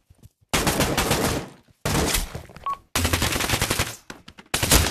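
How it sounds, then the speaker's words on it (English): Bursts of rapid automatic gunfire come from players shooting their teammates in a video game. Several loud, close volleys are split by short silences, with no talk over them. "Can I even stab my teammates? Can I? No, I can shoot them."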